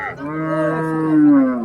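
A dairy cow at the Raniganj cattle market in Ghoraghat gives a single long, loud moo close by that rises and falls and lasts almost two seconds.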